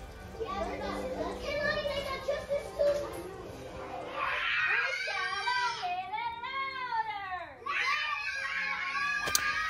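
Young children's high-pitched screaming and shrieking voices in a busy children's group on board a cruise ship, continuous and close, with chatter and giggles running throughout.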